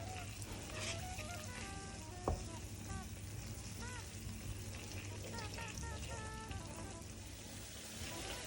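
Bell peppers stew in olive oil in a pan, giving a steady, dense sizzle that bubbles and crackles without pause from start to finish, with a faint voice now and then beneath it.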